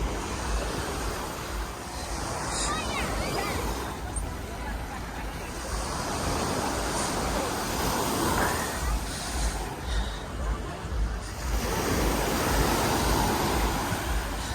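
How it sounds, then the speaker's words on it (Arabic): Sea waves wash onto the shore at Alanya, Turkey, a steady broadband surf roar with gentle swells that rises slightly toward the end, mixed with some wind noise and no clear talk. "صوت البحر مثل ما سمعانين"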